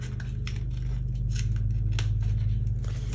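Scissors snip a planner sticker off a paper page, a few quick close cuts over a steady low background hum.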